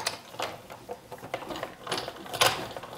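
A die-cutting machine presses a thin wafer die through copper leaf, giving a close, steady mechanical whir with rhythmic clicking and ratcheting, no voices.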